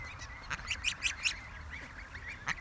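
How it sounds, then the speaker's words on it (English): A goose honks repeatedly, a quick run of sharp, fairly faint honks followed by a lone call after a short pause, with quiet outdoor background. "Oh, there's a goose coming over."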